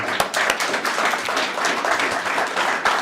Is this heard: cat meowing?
no